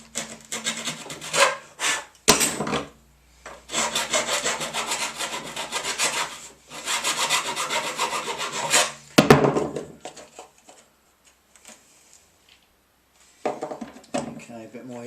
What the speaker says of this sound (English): now I've just got to file that round so I can get the bung in